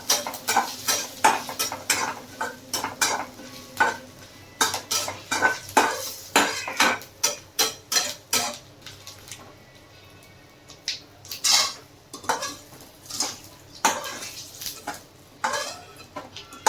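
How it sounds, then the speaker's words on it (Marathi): Nutmeg, cinnamon, pepper and fennel roast in oil in a pan for a village-style mutton rassa, with a steady run of close metal clinks and scrapes from stirring over a faint sizzle. "एवढं आपण थोडं भाजून घेऊया. तेलामध्ये भाजून घेऊया."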